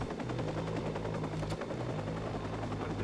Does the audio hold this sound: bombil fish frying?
no